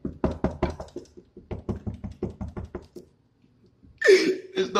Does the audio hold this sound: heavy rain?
no